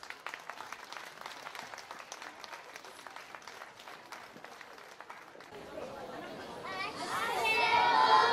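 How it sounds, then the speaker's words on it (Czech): An audience claps for a children's spring dance performance accompanied by accordion, the applause swelling and growing louder toward the end after a stretch of crowd murmur. "Zatleskejte jim."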